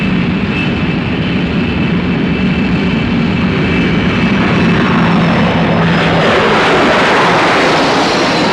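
Aircraft of a Royal Air Force display team from the 1950s–60s fly overhead in a loud, continuous engine roar with a shifting pitch as they pass, with no voices.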